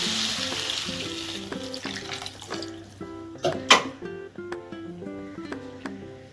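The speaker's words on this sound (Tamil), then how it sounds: "இப்போ இதில் தண்ணி ஊற்றிக்கிறேன்" Water pours into a hot pan of sautéed okra, onion and tomato in a home kitchen: a short hissing splash at first, then quieter bubbling and sizzling with a few utensil clinks.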